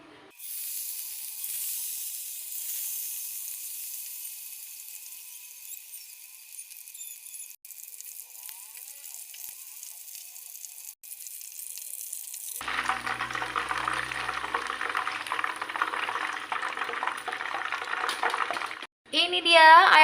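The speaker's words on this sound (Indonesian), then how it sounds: "Ayam yang sudah kita marinasi selama 30 menit digoreng." Coriander-marinated chicken fries in hot oil with a steady broadband sizzle and hiss, growing louder and more crackly partway through as the frying intensifies.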